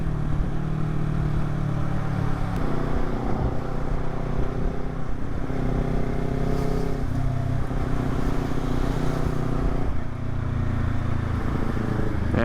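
Traffic of cars and semi-trucks passing on a road, heard from a Kawasaki Ninja 400 motorcycle, with a continuous loud engine drone and shifting pitch as vehicles go by, steady throughout.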